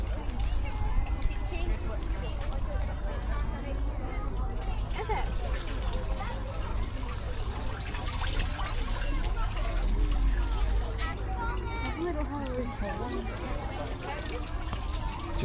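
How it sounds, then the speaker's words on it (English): Small water fountains in a park play area at The Kelpies in Falkirk, Scotland, give a continuous close splashing and trickling bed on a hot day, with children and adults chattering throughout. "Little water fountains."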